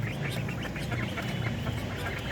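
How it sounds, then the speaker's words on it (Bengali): Native Bangladeshi domestic ducks quack in a busy, continuous chorus of overlapping calls on a rooftop garden, close by and fairly loud. "এটা হচ্ছে দেশি হাঁস"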